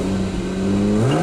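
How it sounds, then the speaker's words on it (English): A 1986 Toyota Supra's 3-liter straight-six engine, heard close as a brief, steady rumbling drone that rises in pitch near the end as it begins to rev. "We'll go ahead and rev it up a little bit."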